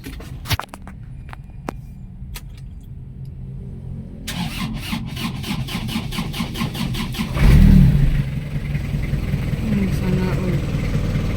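An Isuzu Elf truck with a 4JG2 diesel engine is cranked over in bursts, catches and roars up to a loud rev before settling into a steady, rough idle, with a voice talking nearby.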